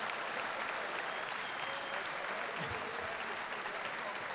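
A crowd at a sim racing expo applauds the Porsche Sim Racing Trophy champion with steady, loud, dense clapping that continues throughout, while faint voices sit underneath.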